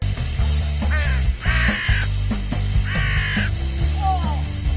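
A cartoon crow caws several times in a row, loud harsh calls over a busy cartoon music bed.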